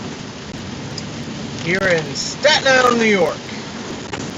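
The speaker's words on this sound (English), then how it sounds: "It's raining out here in the Northeast." Steady rain pours down outdoors in Staten Island, New York, a continuous broadband hiss filling the whole clip while someone talks over it.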